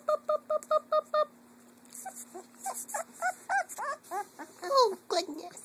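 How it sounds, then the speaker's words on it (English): A young puppy from a litter gives a quick run of high, evenly spaced whimpers, then a looser string of rising and falling whines and yelps, close and clear with no talking over it. "You're a happy puppy."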